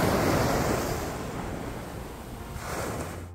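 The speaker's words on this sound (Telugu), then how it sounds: "ఇలా అలల చప్పుడు వింటూ ఉంటే మైండ్ అంతా ప్రశాంతంగా అవుతుందన్నమాట" Ocean waves roll onto Cherai beach in Kerala, a continuous loud surf wash that eases slightly midway and then swells again near the end, with wind buffeting the microphone and no voices.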